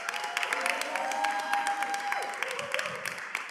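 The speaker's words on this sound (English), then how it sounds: "Can we give a round of applause for her as well?" Audience applause at a live panel event in Atlanta, a dense, steady wash of many hands clapping close by, sustained evenly throughout without any talking over it.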